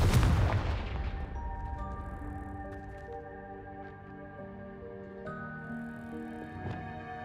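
An explosive Confringo spell is cast in Hogwarts Legacy: a sharp boom opens, then gives way to a ringing, chime-like magical shimmer of sustained tones that linger and overlap, with no talking.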